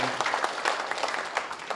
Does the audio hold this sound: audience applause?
yes